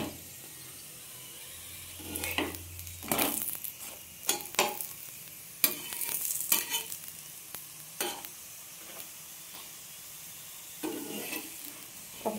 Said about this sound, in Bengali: তো একটু লাল লাল করে ভাজবো